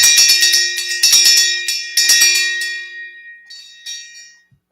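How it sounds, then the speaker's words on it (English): A bell rings with bright, sustained metallic tones: a quick cluster of strikes, then a few more spaced strikes, each fading out, with the last ones quieter and the ringing dying away into silence. "The bell."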